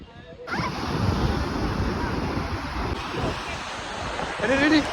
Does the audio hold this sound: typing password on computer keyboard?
no